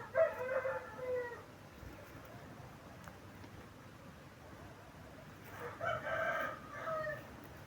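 Two separate crows from a young rooster come at the start and near the end, fairly faint and distant, with a quiet background in between.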